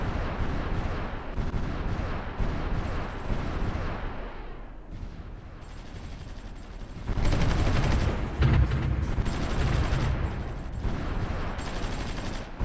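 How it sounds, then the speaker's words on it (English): Heavy naval bombardment from cannons in the strategy game Supreme Ruler Ultimate, a dense run of booming shots and rumbling blasts that thins out midway, then swells into louder, continuous barrages. "is there another naval bombardment here?"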